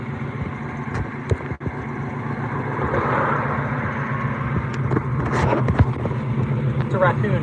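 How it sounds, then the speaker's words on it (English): A single car passes along a rain-soaked road during flood season, its broadband tire and engine rush swelling in the middle and holding through the end, with a voice speaking briefly nearby. "Let this one car pass, and then we're gonna go to the next spot."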